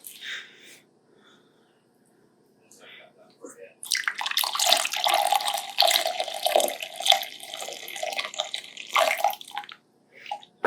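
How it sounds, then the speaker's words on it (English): Heated water phase poured into an oil phase while making a natural anti-ageing face cream, a steady splashing pour that starts partway in and runs loud and close for several seconds after a quieter lead-in. "We're going to pour our water phase into our oil phase,"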